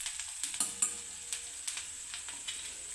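Ground spice powders fry in a pan for karela bhaji while being stirred, a soft, low sizzle broken by light scrapes and taps of the spoon against the pan.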